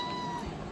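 A short, clear meow, apparently a human voice imitating a cat, sounds briefly and close in a quiet room.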